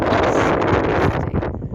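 Strong wind blasts across the microphone on a hilltop along Offa's Dyke, a dense, rumbling rush, continuous and close throughout the short moment.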